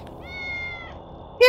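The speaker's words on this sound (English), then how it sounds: "Meow, meow!" A cat meows in the video game Tales of the Neon Sea, one drawn-out, mid-loud call over a low background, followed at the end by a sudden louder burst.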